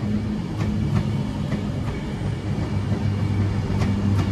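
Avanti West Coast Pendolino train moving through Crewe station, a close, loud steady rumble with regular clickety-clack wheel beats over rail joints, no talk.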